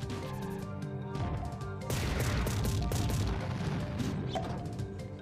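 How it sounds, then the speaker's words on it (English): Cannon fire in the Super Smash Bros. Brawl video game: a burst of loud crashing blasts and rapid impacts bursting over game music, fading after a few seconds, with no talk. "Oh, of course, right, cannon."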